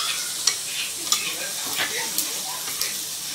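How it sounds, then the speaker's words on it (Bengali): Gram-flour-coated bread slices frying in hot oil, a steady close sizzle with a few sharp crackles and spatters scattered through. "তেলে ফ্রাই করতে হবে।"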